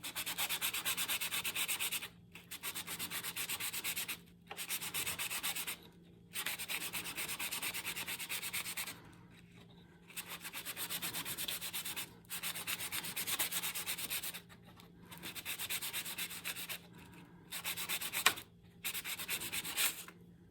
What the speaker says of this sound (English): I'll just take some 400 grit, give it the final smoothing.